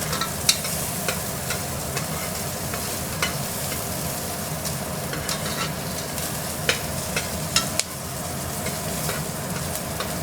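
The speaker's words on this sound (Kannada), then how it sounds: "ಇದು ಈರುಳ್ಳಿ ಚೆನ್ನಾಗಿ ಫ್ರೈ ಆಗೈತೆ" Onions frying steadily in a pan for a chicken kheema curry, a continuous close sizzle with occasional clicks and scrapes from stirring running throughout.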